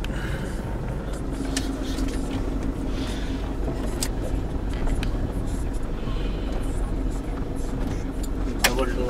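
A car idles and creeps steadily through a lion park in South Africa, its low engine rumble running continuously under a few sharp clicks and bumps, while people talk quietly inside.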